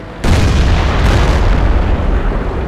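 A heavy tank cannon fires in a tank battle video game, with one sudden loud boom that hits abruptly and then holds as a dense, roaring rumble for the rest of the moment.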